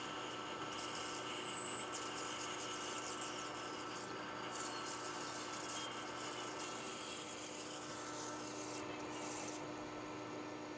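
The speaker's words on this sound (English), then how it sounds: "I'm using alcohol as a cutting fluid here." Metal being cut in a workshop with alcohol as the cutting fluid, likely a saw or file working a part for a laser weld box, giving a steady close rubbing, rasping scrape that runs unbroken throughout with no talk.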